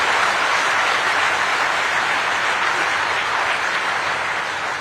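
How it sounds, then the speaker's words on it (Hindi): A large crowd at the ceremony in Kochi commissioning INS Vikrant into the Indian Navy bursts into loud, continuous applause, a dense and even roar of clapping with no pause throughout. "एक बार जोरदार जानदार तालियों के साथ अपनी भावनाओं को व्यक्त कीजिए।"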